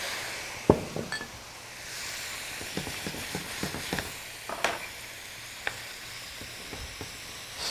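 White wine hits a hot pan of garlic and sausage, raising a broad sizzle with scattered clinks and scrapes of a utensil against the pan, close and moderately loud with no talk.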